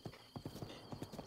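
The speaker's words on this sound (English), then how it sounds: "this is a little bit of horse riding around here" Horse hooves clip-clopping in a steady trotting rhythm while riding in the video game Breath of the Wild, about ten distinct close hoofbeats with no talk over them.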